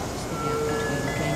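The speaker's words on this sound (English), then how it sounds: "The train is now arriving for Clive City." A train pulls into a station with a steady rail rumble and thin tonal whines from the wheels and motors, heard close for a brief moment with no voices.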